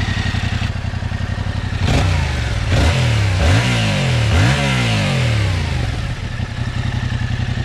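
A 2020 Yamaha Tracer 700 twin-cylinder motorcycle, Euro 5 version, idles with a steady throb, then its engine is blipped several times in quick succession, each rev rising and falling sharply, close and loud before settling back to idle.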